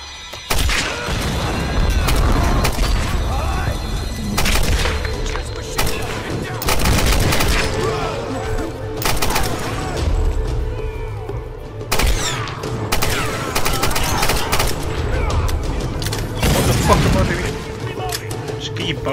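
Gunfire from the 2013 Tomb Raider video game, with repeated shots and bursts throughout, loud and dense over constant game sound, while someone talks over much of it.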